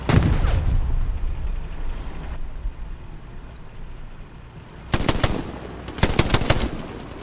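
Automatic gunfire in the WWII shooter Hell Let Loose: an opening burst, a lull of distant battlefield rumble, then two sharp, loud rapid bursts near the end, with no talk.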